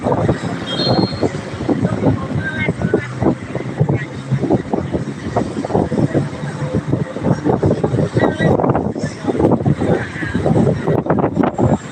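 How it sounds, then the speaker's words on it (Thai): Strong evening wind gusting hard against the microphone outdoors ahead of rain, a loud rough buffeting that swells and pulses throughout. "ลมอย่างแรงเลย ลมอย่างแรงเลย"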